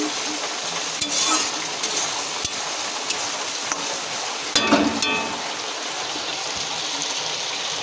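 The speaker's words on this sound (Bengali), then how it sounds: "ধনের গুঁড়ো জিরের গুঁড়ো দিয়ে হালকা করে কষিয়ে নেবো" Coriander and cumin powder paste frying in a pan for chicken curry, a dense steady sizzle like light rain with a few scraping stirs and a brief louder burst midway.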